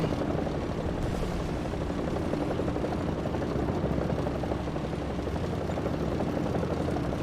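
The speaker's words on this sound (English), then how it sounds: "I can hear another helicopter." A helicopter in War Thunder combat drones continuously, its rotor chop and engine whine steady and fairly loud throughout, with no voices over it.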